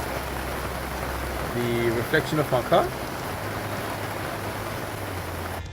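Heavy rain pours steadily during a sudden storm at a Kgalagadi campsite, a dense hiss over low rumble, with someone speaking briefly midway.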